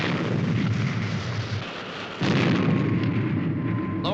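Ship firing a shot with a heavy explosion, a deep sustained roaring boom that dips then swells again into a second rumbling blast, loud and continuous.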